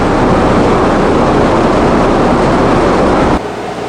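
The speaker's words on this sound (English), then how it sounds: "What I'm doing now is running them through the drum sander." Steady loud roar of a drum sander as weathered gray wooden fence pickets are run through it, a continuous dense whir that drops in level near the end, no voices.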